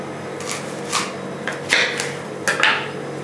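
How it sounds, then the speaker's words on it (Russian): A knife slices through an apple in a few short, crisp cuts with irregular spacing, close and moderately loud over faint kitchen background hum. "Затем режем яблоко."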